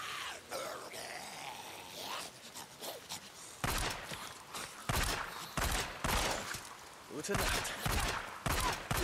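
Pistol fire in the game Days Gone, a run of sharp, loud shots in uneven bursts, some spaced and some clustered, with a brief spoken phrase among them.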